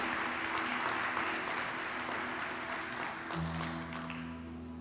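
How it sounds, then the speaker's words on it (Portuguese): A church congregation applauding, steady broad clapping at moderate distance that fades slightly, with a low sustained tone from music or a keyboard entering partway through. "Você pode aplaudir que a palavra de Deus ministrada traz alegrias nas nossas vidas"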